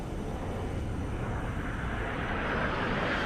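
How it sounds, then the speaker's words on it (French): A military jet takes off in formation, heard as a dense, loud, continuous engine roar that fills the whole stretch with no break. "Décollage autorisé."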